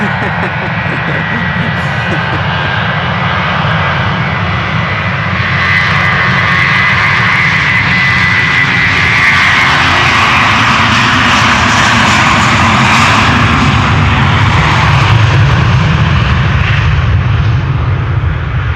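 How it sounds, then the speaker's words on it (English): A Finnair Airbus A321 jet takes off from the Polderbaan runway at Amsterdam Schiphol, its engine roar loud and sustained and swelling over nearly twenty seconds, with voices talking over it at times. "This is Finnair A321, flight 1302, going to Helsinki, Finland."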